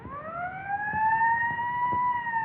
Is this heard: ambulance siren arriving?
yes